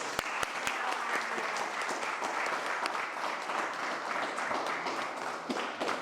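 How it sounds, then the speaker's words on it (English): Studio audience of a late-night television show breaking into steady applause, dense and sustained throughout with a few sharp close claps at the start, no talking over it. "a round of applause to you"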